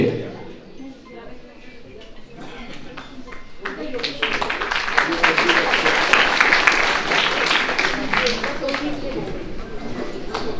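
An audience at a free cataract surgery camp event claps, the applause building from sparse scattered claps into fuller, louder clapping. A voice speaks over it from time to time.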